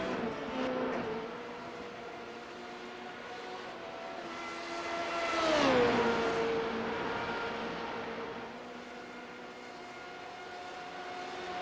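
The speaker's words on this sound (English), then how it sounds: "a good description of this race right now is James J. Pinkster just gonna using the power moves to stay in third" Formula 3.5 open-wheel race cars lapping Bathurst in the iRacing sim, a continuous engine drone with several cars whose pitch rises and falls as one passes closely near the middle, no talk over it.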